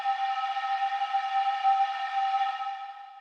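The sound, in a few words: processed pan flute with whistly frequency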